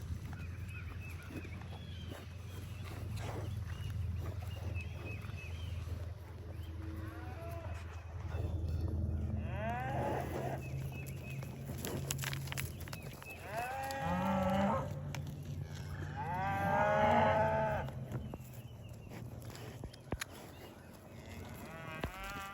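Cattle in an open field give several drawn-out moos of varying pitch over a low rumbling background, some closer and louder, others more distant, with no talk.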